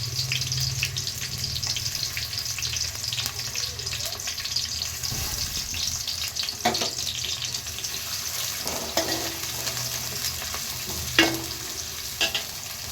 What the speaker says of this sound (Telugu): ఆనియన్ అయితే ఫ్రై అవుతుంది